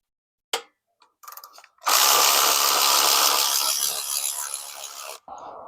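A power tool loosens the top bolt on a motorcycle ignition coil during a dyno sensor install, giving a few short taps and bursts, then a loud, steady mechanical whir for about three seconds before it stops.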